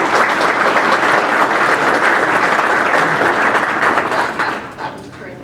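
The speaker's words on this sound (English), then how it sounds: "let's give them a big round of applause" An audience at the GEOINT 2023 event bursts into steady, dense applause that holds for about five seconds before tapering off at the end.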